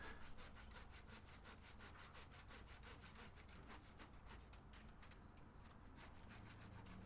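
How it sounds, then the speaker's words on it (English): A rusty old handsaw cuts through wood in steady, rapid back-and-forth strokes, each stroke a rasping scrape, quiet and even throughout. "I didn't want to cut my fingers off, so I decided just to use a handsaw"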